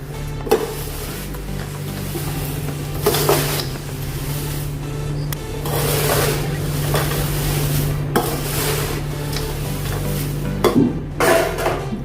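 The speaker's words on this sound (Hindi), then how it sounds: "और अभी ये मिक्स कर लीजिए हल्के हाथ से।" Thin-flake poha chivda for Diwali being gently tossed by hand in a large pan, a soft continuous rustle and crunch with periodic louder scraping swells and clinks.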